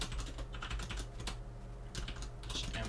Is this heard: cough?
no